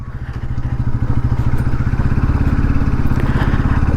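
A Bajaj Pulsar NS200 motorcycle engine runs loud and close in a steady, rapid throbbing rhythm as the bike is ridden, with no voices.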